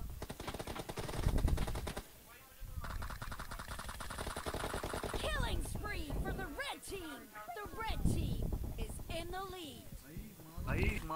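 Gunfire in a shooting video game, with sustained rapid machine-gun bursts and single shots filling the mix, loud and continuous, under excited talking from a player.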